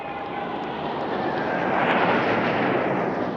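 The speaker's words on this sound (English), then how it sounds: "An immaculate Diamond 9 comprising 4 MiG-29s of the Swifts and 5" A Diamond 9 formation of four MiG-29s of the Swifts and five Su-27s of the Russian Knights flying at a Russian Air Force anniversary display, producing a steady, loud jet roar that swells as they pass overhead.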